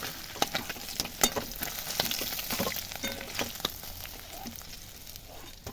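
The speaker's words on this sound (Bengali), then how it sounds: "এগুলো ভেজে নেব কড়া করে এরকম একদম লাল লাল করে ভাজা হয়ে গেছে কড়া করে" Fish heads frying crisp in hot oil in a pan, a steady crackling sizzle with scattered sharp pops, close and fairly quiet.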